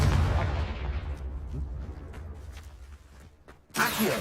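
A Confringo blasting spell in the Hogwarts Legacy game lands as a loud, booming explosion that fades away over a few seconds, followed by a second sharp burst near the end.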